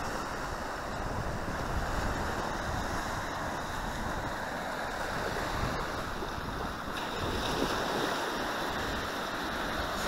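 Atlantic Ocean surf rolls and washes continuously while wind buffets the microphone, a steady broad roar with no voices.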